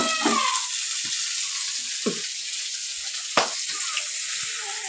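Eggplant fries in a pan with a continuous hissing sizzle, broken by a few brief clatters and scrapes, and a voice briefly at the start.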